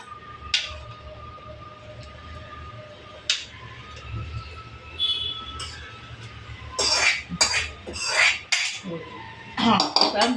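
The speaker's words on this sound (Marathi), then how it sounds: "याच्यावर कढई ठेवते" A wok (kadhai) is set down on a home kitchen stove, giving a few sharp metallic clanks and clinks close by, with scattered knocks of pots and cutlery through the second half.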